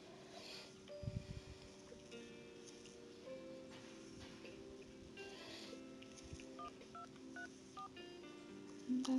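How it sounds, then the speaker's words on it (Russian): Telephone dialing in the video game Homescapes plays as a series of short, faint DTMF beeps over quiet game ambience, and a brief louder tone follows at the end. "Да, звонит Джебу"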